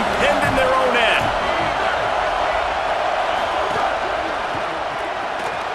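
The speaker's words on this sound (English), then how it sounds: "The roar of the crowd trying to fuel this defense to keep them pinned in their own end." Crowd roar in a College Football 27 video game, a dense, loud stadium noise sustained throughout under a play-by-play commentator's voice.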